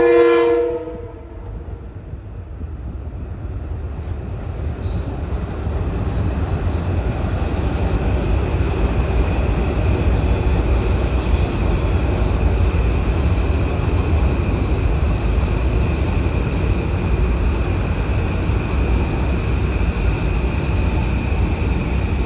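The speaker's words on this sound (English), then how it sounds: "they always have to sound their horn when approaching a station" A Metro-North commuter train near Harlem gives a short, loud horn blast at the start while approaching a station, then a steady rumble of rolling cars and wheels carries on at close range for the rest of the time, with no talk.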